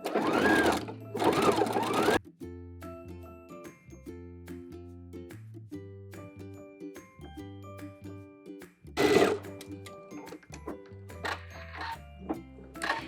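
A sewing machine stitches the armhole of a tank top in short motorized runs, a close, buzzing whir that starts and stops, with brief rustling bursts of fabric handling between passes and no speech.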